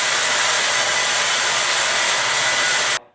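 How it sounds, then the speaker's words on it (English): A 7-inch angle grinder fitted with a cutoff wheel slices through steel driveshaft yokes, giving a loud, steady high-pitched hiss and whine that holds for about three seconds, then cuts off abruptly. "So the 7-inch grinder with the cutoff wheel did a pretty nice job."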